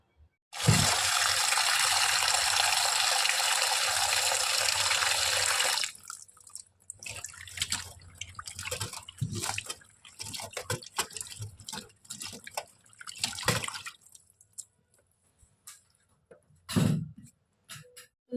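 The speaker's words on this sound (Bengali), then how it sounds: "তো এখন আমি সিমগুলোকে ধুয়ে নেব" A kitchen tap gushes strongly for several seconds while cut flat beans are washed. Intermittent splashing, dripping and rustling of the wet beans follow, close and uneven, with no talking.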